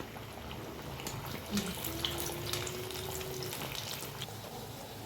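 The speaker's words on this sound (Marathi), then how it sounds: "तेल आपलं गरम झालेलं आहे. तर सोडूया पुऱ्या आपल्या मस्तपैकी." Puris sizzle and bubble as they fry in hot oil, a steady, moderately loud crackling hiss with no talk over it.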